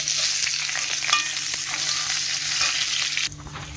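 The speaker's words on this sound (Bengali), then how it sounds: "পেঁয়াজটা ভাজা হয়ে গেছে" Onions fry in a pan with black cumin seeds, a steady close-up crackling sizzle with a few light stirs, dropping slightly quieter near the end.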